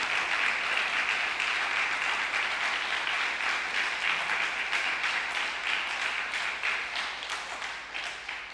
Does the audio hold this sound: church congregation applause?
yes